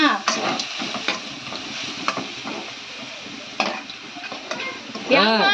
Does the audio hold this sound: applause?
no